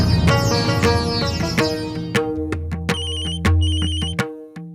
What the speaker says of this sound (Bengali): তখনই আমার ফোনটা আসতে হলো